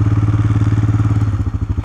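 A John Deere tractor engine idles close by, a loud, rapid, even chugging pulse throughout the short stretch.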